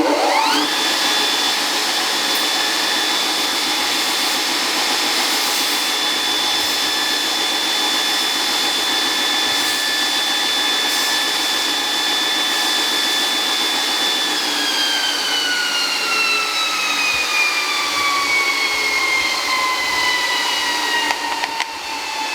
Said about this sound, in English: you can always use your grinder, your belt grinder, to take a little bit, to thin it out a little